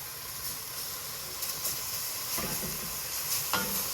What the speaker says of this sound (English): Kind of let that simmer on its own a little bit.